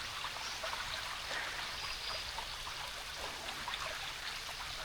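A stream of water runs across a hiking trail on Dolukanda, giving a steady, even rush and trickle that stays constant with no voices.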